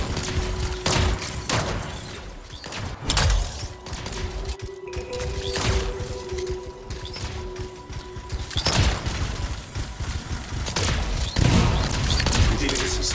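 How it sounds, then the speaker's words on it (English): Canisters explode in the video game Anthem: repeated loud booms and crackling bursts like gunfire come in waves, with some voices heard faintly between them. "It'll be a contained explosion."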